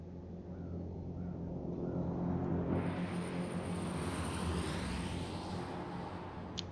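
An airplane drones overhead in the game H1Z1, a steady broad rumbling roar that swells in the middle and holds under faint ambient noise, with no talk.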